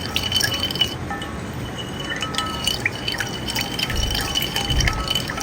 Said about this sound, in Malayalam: എന്നിട്ട് സ്പൂൺ വെച്ചിട്ട് ഒന്ന് മിക്സ് ചെയ്യുക.